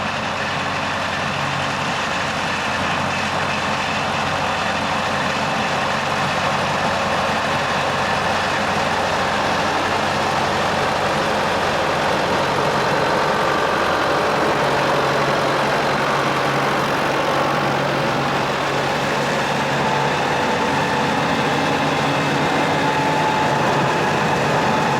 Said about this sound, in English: Jump on the tractor, get that Discbine going,